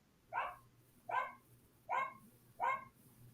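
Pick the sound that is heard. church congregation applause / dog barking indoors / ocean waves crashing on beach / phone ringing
dog barking indoors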